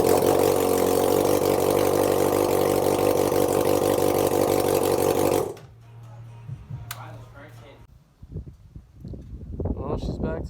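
A 2003 Honda CBR600RR motorcycle engine, freshly swapped, runs loud and steady up close for about five seconds, then cuts off abruptly, leaving faint clatter and a few quiet sounds.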